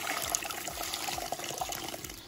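Hot water from a boiled kettle pours into a bucket of washing water for bathing a horse, a steady close splashing trickle and fill running throughout with no talk.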